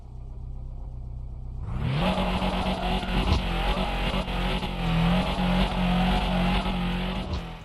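Video game car engine from the mobile title Drift Max starts abruptly after a quiet moment, then holds a loud, sustained roar with revving swells and tire squeal as the car drifts.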